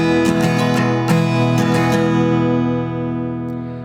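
Acoustic guitar strummed in a down-up rhythm for a song, several bright strokes early on, then a chord left ringing and slowly fading, close and clear with no talking.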